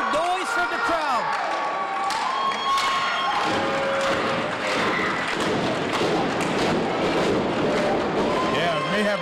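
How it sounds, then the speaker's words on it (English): A wrestling arena crowd at a three-way match in Buffalo roars continuously, with cheering and shouts filling the space and some thumps from the ring underneath. "All three men calling for noise from the crowd."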